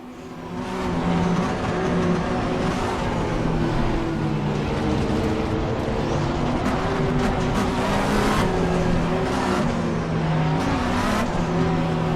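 A GT race car in Assetto Corsa Competizione screams at full throttle, its engine note loud, steady and close, with harmonic pitch bands shifting as it climbs through the revs and no talk over it.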